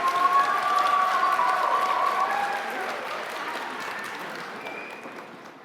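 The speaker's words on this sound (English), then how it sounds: "Let's have a round of applause for the group from March 2022." Audience applause for a group of healthcare assistant graduates at a Stenberg College graduation ceremony, loud and sustained at first, then slowly fading over several seconds, with a few faint voices mixed in.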